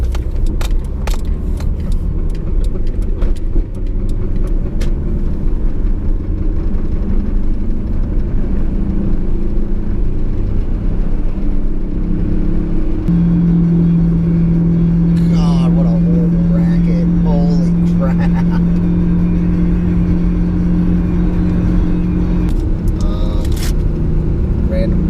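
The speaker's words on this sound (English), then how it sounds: "first official road test of the Gambler Camry" A battered Toyota Camry with a cracked windshield, driven on a road test, gives a loud steady engine and road rumble from inside the cabin, with keys jangling, rattles, a sustained hum and occasional voices.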